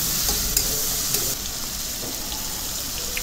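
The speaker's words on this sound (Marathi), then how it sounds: "एक मोठ्या आकाराचा टोमॅटो बारीक चिरलेला त्याला देखील फ्राय करून घ्यायचा" Finely chopped large tomato frying over high heat in a pan for a cabbage dish, giving a steady, close hiss with a few light stirring scrapes and no talking.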